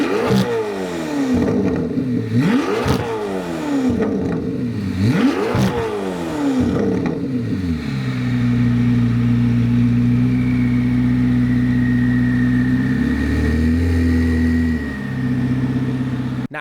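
A Chevrolet Corvette C8 ZR1 on stock mufflers with high-flow cats revs hard in several sharp rising and falling bursts, then settles into a loud, steady drone at higher rpm with a shift in pitch near the end, heard close without talk.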